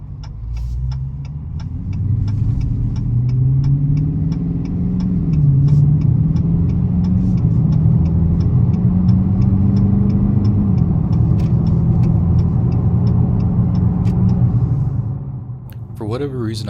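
A 2022 Dodge Challenger R/T with the RT Plus package accelerating up a highway on-ramp, its engine throbbing and rumbling loudly as revs rise and fall, with faint ticking in the cabin and a brief clatter at the end.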